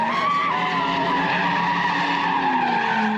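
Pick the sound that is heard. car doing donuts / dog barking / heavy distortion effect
car doing donuts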